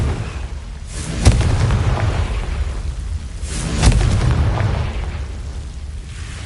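Two booming fire-spell explosions from Hogwarts Legacy go off a few seconds apart, each a sharp blast that rolls into a long low rumble before fading.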